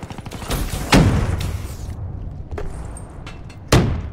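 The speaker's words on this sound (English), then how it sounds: "These assault rifles are too slow." Assault rifle fire in Call of Duty Black Ops 3, a few heavy sharp shots with booming thuds spaced apart, loud and close over low rumbling game noise.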